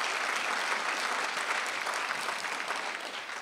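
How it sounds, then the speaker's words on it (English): An audience applauds contestants at a hackathon pitch session, steady dense clapping filling the whole stretch at an even level without any talk over it. "how about a round of applause for all of our contestants?"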